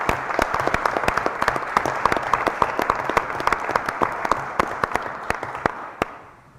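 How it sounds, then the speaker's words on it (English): An audience at a school board meeting applauds to welcome newly hired staff, a steady crowd of clapping with a few sharp, close claps on top, fading out at the end. "Let's give them a nice round of applause."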